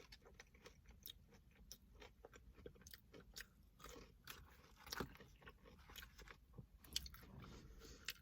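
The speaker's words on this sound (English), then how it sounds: "I'll do another jalapeno popper." Close, quiet chewing of a Wienerschnitzel jalapeno popper filled with cheese, with soft crunchy bites and wet mouth sounds coming in irregular bursts, no talking.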